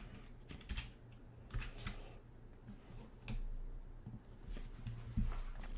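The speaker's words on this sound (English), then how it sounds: "And then just type in your city." Fingers tap a computer keyboard in sparse, faint, close keystrokes scattered irregularly over several seconds against a low room hum.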